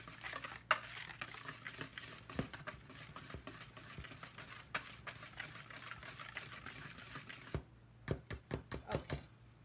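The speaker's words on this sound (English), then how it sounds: "now I'm going to take this whisk and whisk this together." A wire whisk stirs cake flour mixture for a double chocolate pound cake, making rapid, uneven scraping taps against the bowl, then a few louder, separate clinks at the end.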